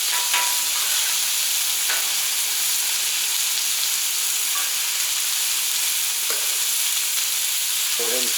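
Onions sizzle on a Camp Chef outdoor griddle, a dense, steady frying hiss that fills the whole stretch with a few faint clicks and scrapes, no talking.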